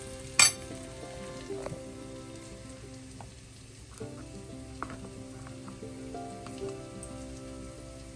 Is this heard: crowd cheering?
no